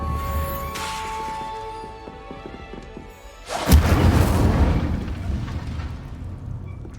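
Incendio fire spell cast at practice targets in Hogwarts Legacy: a sudden loud fiery burst erupts midway and roars on as a sustained crackling blaze after a quieter stretch of light ambient tones.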